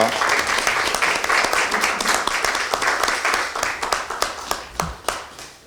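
Audience applause at a party leadership meeting, a dense sustained clapping from a crowd that gradually thins toward the end, with individual claps standing out.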